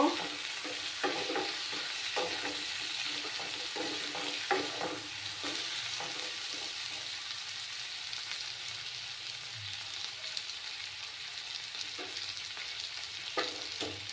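A pan of spices with turmeric powder and salt sizzles steadily while a spatula scrapes and stirs at irregular intervals, close and continuous, with no one talking; the base for a Bengali katla fish curry.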